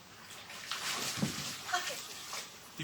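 A young, leggy dog tumbles into a backyard swimming pool, with soft splashing and sloshing water, fairly quiet, while voices murmur in the background.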